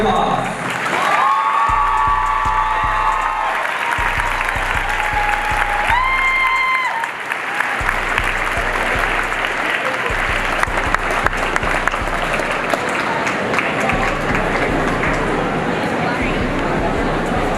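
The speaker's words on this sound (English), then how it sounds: "please join me in honoring these men with your applause" Sustained crowd applause at an FFA Kiss the Cow fundraiser honoring donors, dense, loud clapping that starts abruptly and carries on steadily with a few scattered cheers, a voice briefly heard early on.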